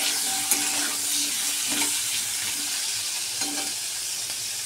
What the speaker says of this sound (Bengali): ক্যাপসিকাম আর পেঁয়াজটা জাস্ট একটু ফ্রাই করে নেব।